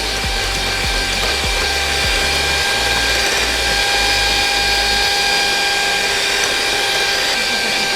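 A hand mixer whirs at top speed, beating red velvet roll cake batter until thick. The motor whine is steady, loud and close, running without a break and with no voices.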